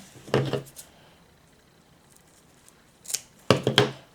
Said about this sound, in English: So you can just cut yourself a piece of that.